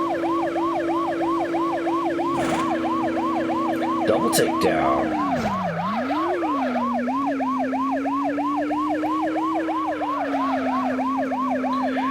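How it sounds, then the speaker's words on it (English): A wailing police car siren in the video game Test Drive 6 cycles rapidly and continuously over a steady engine drone, briefly dipping in pitch midway, with a short spoken phrase near the start. "the siren, again, just like the car's engines, seem to be the same across all the cars"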